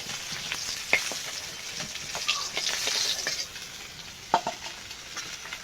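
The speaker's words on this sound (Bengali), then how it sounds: "বাকি মাছগুলো ভেজে নেব" Fish frying in oil in a kadai, giving a steady close sizzle with scattered sharp pops and crackles and occasional stirring clinks, with no one talking.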